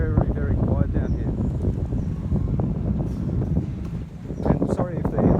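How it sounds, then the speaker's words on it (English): Strong wind at a beach buffets the microphone in a constant low, rumbling roar, with a voice talking faintly underneath. "sorry if the noise of the wind's giving us a bit of grief"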